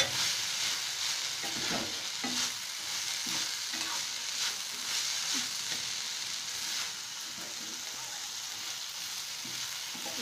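Grated coconut sizzles with carrot and beans in a hot pan, a steady frying hiss broken by repeated scraping and tapping of a spatula as the poriyal is stirred, close up with no voices.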